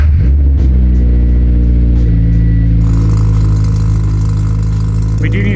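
A Mitsubishi Evo 10 or Subaru FR-S engine turns over and catches after sensor repairs, then settles into a steady, low idle with a deeper rumble after a few seconds, close and loud.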